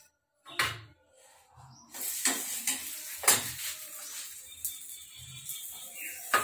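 Aloo roti brushed with ghee on a griddle in a Punjabi home kitchen, giving an intermittent sizzle broken by scraping, tapping and stirring clatter.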